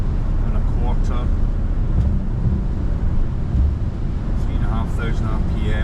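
Range Rover L405 with an intake leak, engine held at 3,500 RPM in 5th gear in sport mode: a steady, close, low drone with wind noise, and someone talks over it.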